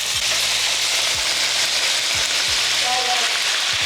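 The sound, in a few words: tomatoes sizzling with onions and garlic in pan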